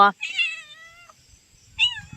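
A cat gives a couple of clear, close meows, a longer drawn-out one followed by a shorter call after a brief pause, with only faint background rustle.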